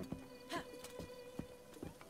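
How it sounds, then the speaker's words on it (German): A horse's hooves clip-clop on the ground in the video game The Legend of Zelda: Breath of the Wild, with a few separate, fairly soft hoof strikes spaced unevenly at a walking pace. "Da brauchen wir Abendstern. Das ist sonst zu weit. Abendstern. Unser wunderbares Pferd"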